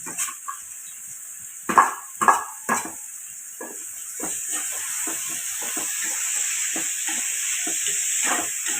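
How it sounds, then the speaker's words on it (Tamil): Tomatoes and mixed vegetables are sautéed in a pan for vegetable rice, with a few sharp spatula scrapes early on followed by a steady soft sizzle and light stirring clicks, close and fairly quiet. "தக்காளியும் அதோட சேர்த்து வதக்கிடுவோம்."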